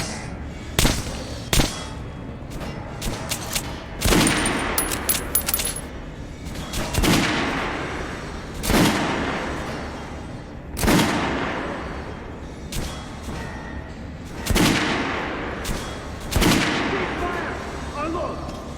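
Gunfire at a firing range in the video game Metro Last Light Redux: a series of sharp, loud shots spaced every couple of seconds, each with a short reverberant tail, over a faint ambient background.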